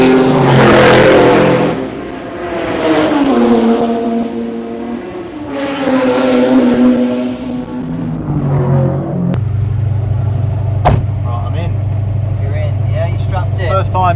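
Ford GT40 race car at the Goodwood Revival, its engine revving in loud rising and falling sweeps, then settling into a steady low idle rumble near the microphone.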